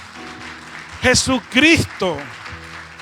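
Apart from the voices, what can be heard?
audience applause in church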